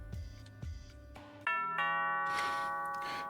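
A doorbell in a judge simulation video game gives a bright two-tone ding-dong chime. It follows a few soft knocks and rings out clearly, with the second tone sustaining and fading.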